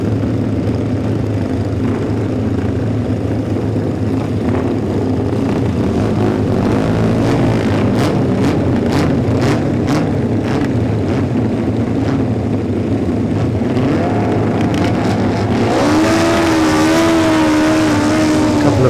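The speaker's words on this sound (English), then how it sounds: "We can watch those same four bikes off the start line now." Classic racing motorcycles, including Honda and Matchless G50 machines, roaring off the start line at the Classic TT, a dense engine din with rising revving whines swelling loudly near the end.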